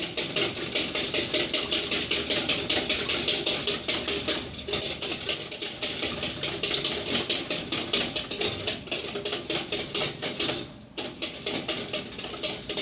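Eggs being whisked by hand for an egg cream sauce, a fast, steady rhythmic clicking and tapping of the whisk against the bowl, close and continuous with only a brief pause.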